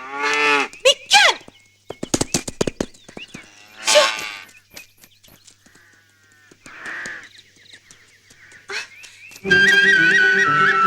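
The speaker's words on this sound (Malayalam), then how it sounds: "ആ അസത്ത് പശു എവിടെയെന്ന് നോക്കട്ടെ." A cow moos several times in a rural village setting, the long, low calls rising and falling between other animal sounds and occasional crow caws.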